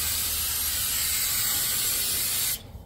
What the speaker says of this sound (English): we're gonna spray some brake clean on this